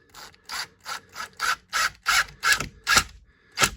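A screw being driven into a door strike plate while fitting an Emtek privacy lock makes a rhythmic series of about nine grinding, ratcheting turns, close and clear with short pauses between them.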